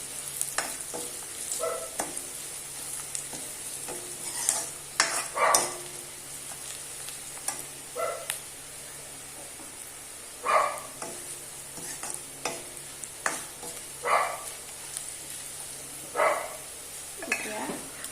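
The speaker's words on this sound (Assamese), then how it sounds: "পিঁয়াজটো ৰঙাকৈ ভাজোঁ, তেতিয়া কালাৰটো ধুনীয়া হয়।" Onions fry in a pan for taro leaf curry, a soft sizzle under intermittent spatula scrapes and clinks against the pan, moderately close.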